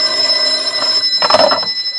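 An old telephone bell rings loudly and close, a steady electric trill with a brief louder burst, alone without any voices.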